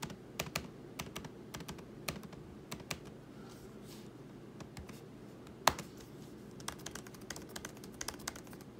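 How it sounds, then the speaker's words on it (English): Typing on the keyboard of a 2018 13-inch MacBook Pro, a steady run of quiet, close keystroke clicks over low room hum, with one sharper tap partway through. "this keyboard is a lot more tactile feeling"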